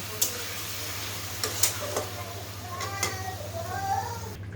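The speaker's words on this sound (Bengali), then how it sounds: "মাছগুলো ঝোলে দিয়ে এখন একটু নেড়ে দিয়ে আমি আবার 2 মিনিট জাল করে নেব" Fish pieces in curry sauce get stirred in a pan, with a low simmering hiss, a steady hum behind it and a few scraping strokes, some faint.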